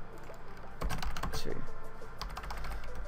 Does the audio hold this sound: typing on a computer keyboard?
yes